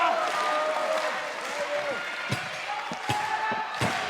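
A wrestling crowd cheers at Yoyogi Second Arena for a GHC National Championship bout, a steady roar under commentary talk, with a few sharp ring thuds near the end.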